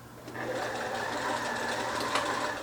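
Sewing machine stitching two pieces of lace together, a steady fast mechanical whir running for the whole stretch, close and moderately quiet.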